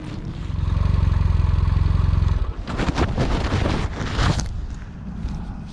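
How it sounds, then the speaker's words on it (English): A motorcycle rides off a short way down a street: a strong, pulsing engine note for a couple of seconds, then it breaks into gusty wind buffeting and fades as the bike moves away. "I'm going to hop on the bike and just ride a really short distance"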